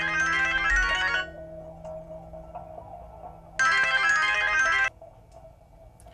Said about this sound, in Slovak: Vstávaj, zvoní ti telefón.